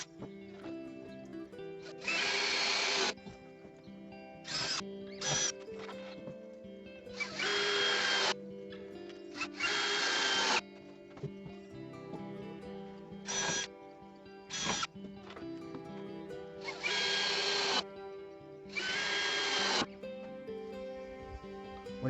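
A power drill drives screws through cut floorboards into supports for a dog shelter platform, giving about eight short whirring bursts separated by pauses, fairly close and moderately loud.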